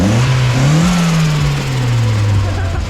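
A turbocharged Mazda Miata engine, with a turbo suspected to be worn and loose, revs up and settles back down, its droning pitch rising and falling under a steady, loud mechanical roar.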